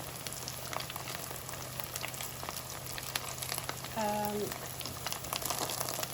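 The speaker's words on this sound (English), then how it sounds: "Now I put some in the fryer pan." Gluten-free Baghdad kubba fry in oil in a pan with a continuous, even sizzle heard up close, and a brief tonal beep partway through.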